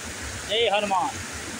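Kasipatnam waterfall rushes with a steady, broad hiss of falling water while someone speaks briefly over it.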